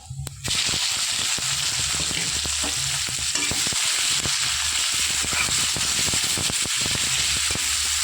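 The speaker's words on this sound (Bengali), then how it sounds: "পেঁয়াজটা হালকা ভেজে নেবো" Chopped onion frying in oil with whole garam masala spices (cinnamon, cloves, cardamom, cumin seeds) for a rohu fish, potato and flat bean curry, a steady close sizzle broken by repeated stirring scrapes, with no talk.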